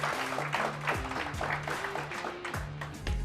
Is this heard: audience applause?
yes